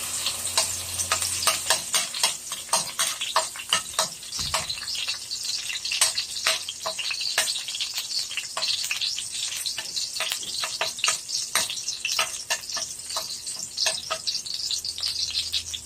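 Garlic frying in a hot pan for squid adobo, a steady crackling sizzle with frequent scraping stirs of the spatula, close and continuous with no talk.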